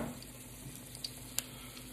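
Garlic searing in a blend of olive oil, sesame oil and hot chili oil for breakfast fried rice, a quiet, steady sizzle with a few small pops and crackles, no talking.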